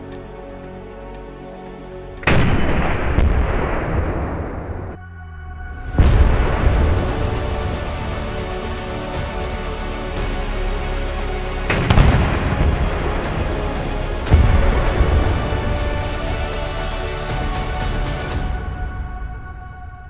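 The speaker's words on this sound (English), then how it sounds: "Let's kick it up a notch with another abrasive test. BBs with even more explosives." Explosives packed with BBs detonate around industrial process gauges, giving several loud, close booms that break into long roaring, rumbling tails and scattered debris rattles, with no voices.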